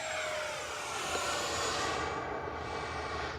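An FMS Yak-130 70mm electric ducted-fan RC jet on its maiden flight makes a steady, loud rushing whine that holds at a fairly even level and fades only slightly toward the end as it passes.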